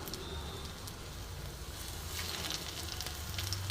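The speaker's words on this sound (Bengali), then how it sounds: "দেখো আমি আস্তে আস্তে ভাজছি" Chicken pieces with ginger frying slowly in hot oil on lowered flame, a faint, even crackling sizzle that runs steadily throughout with no talking.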